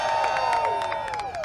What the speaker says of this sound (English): And I know everybody can cheer for this